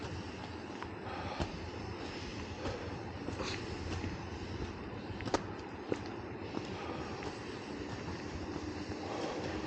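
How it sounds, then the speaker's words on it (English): A distant train rumbles steadily through a broad noisy wash, with occasional faint clicks and clacks from the tracks. "I hear a train."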